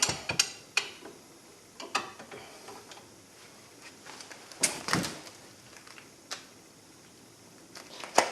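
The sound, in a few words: wrench torquing brake caliper bolts on Kia Sorento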